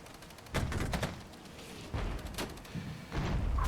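Artillery and gunfire in the Regiments military strategy video game, heard as several booming bursts and rumbling thumps in quick succession, loud and dense with no talk over them.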